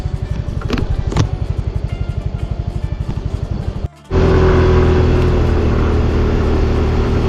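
A motorcycle rides along a road, its engine pulsing in a rapid steady rhythm up close, then after a brief cut turning into a louder, denser roar of engine and wind.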